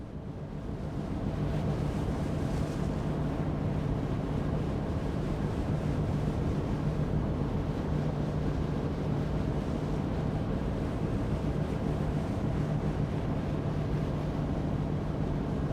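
At sea in the Nautis Home Ship Simulator game, a steady roar of wind and waves carries on without a break, with a low tonal hum running beneath it.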